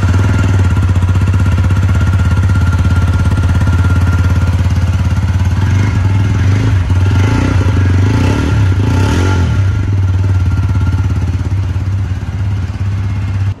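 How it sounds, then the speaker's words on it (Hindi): A 2023 TVS Apache RTR 160 4V BS6 motorcycle with a single-barrel exhaust revs loud and close, a bassy, steady idle rising into several throttle blips, with no talk. "इसकी वजह से इसका जो है एग्जॉस्ट काफ़ी बेसी है और काफ़ी लाउड भी है, तो हम आपको अभी सुनाने वाले हैं"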